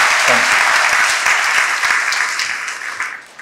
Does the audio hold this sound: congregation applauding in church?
yes